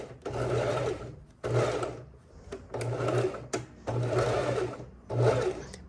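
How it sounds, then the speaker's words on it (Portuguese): Sewing machine backstitching along a tailored trouser fly, running in five bursts of steady motor whir separated by short pauses, close and alone. "e vou dar o retrocesso"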